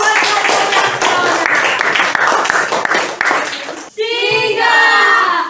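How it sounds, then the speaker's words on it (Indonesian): Classmates applaud a student in a classroom, a steady burst of many hands clapping for about four seconds before it stops and a voice begins speaking. "tepuk tangan dulu buat Fiona"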